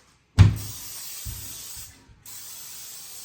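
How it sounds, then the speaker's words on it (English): Pam cooking spray is sprayed onto a pan in a home kitchen, a sharp burst followed by a steady close hiss lasting under two seconds, then a brief gap and a second shorter spray. "You know, spray it on there like that."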